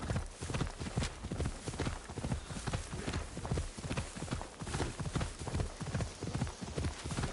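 A horse ridden across a field in the Assassin's Creed Shadows video game gives out steady, rhythmic clip-clopping hooves at a trot throughout, close and alone with no talk over it.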